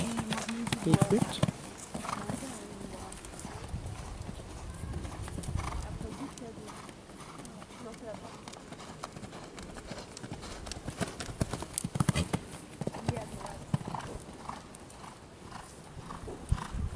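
Horse hooves clip-clop on the ground during show jumping training, irregular footfalls nearby with an occasional snort or whinny, while people talk throughout.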